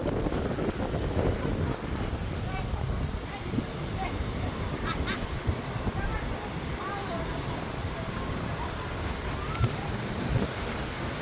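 Strong wind buffets the microphone in a constant rough rumble aboard a fast dolphin-watching boat at Clearwater Beach, Florida, with people talking faintly underneath.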